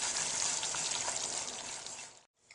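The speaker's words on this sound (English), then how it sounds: "now we are pouring this on top of the gelatin mixture" Hot sugar syrup for homemade marshmallows streams steadily into a gelatin mixture with a soft, continuous hissing pour, then cuts off briefly near the end.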